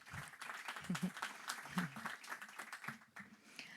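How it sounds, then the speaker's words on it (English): A crowd applauds at a book presentation in New York, with scattered clapping, moderately loud and continuous, while a voice murmurs faintly underneath. "Let us have a round of applause to everyone welcoming this event."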